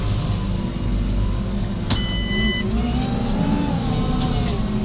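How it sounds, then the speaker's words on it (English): A loader vehicle moves nearby on a farm during slurry transfer work, its engine giving a steady, close diesel rumble that holds throughout with no speech. "I've got a loader coming at me."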